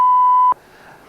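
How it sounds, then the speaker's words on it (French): A steady, loud censor bleep sounds at a single pitch for about half a second, then cuts off abruptly, leaving faint background noise. "Donc là, on l'a réécouté avec le bip."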